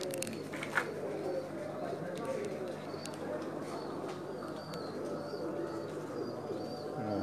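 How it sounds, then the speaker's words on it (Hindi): A rooftop pigeon coos softly in a low, repeating murmur beneath steady background noise, with men chatting nearby. "ये छत वाला कबूतर है"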